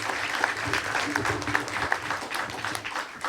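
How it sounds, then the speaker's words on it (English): An audience at a school student recognition ceremony claps steadily for a few seconds, a dense patter of many hands filling the room at moderate loudness. "how about another round of applause for all these amazing students?"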